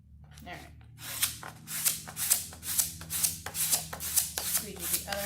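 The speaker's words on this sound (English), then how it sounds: "Squeegee the other half of our stencil on." A squeegee is drawn again and again across a stencil during a how-to job, giving a steady run of rough, close scraping strokes about twice a second, with a person talking at times.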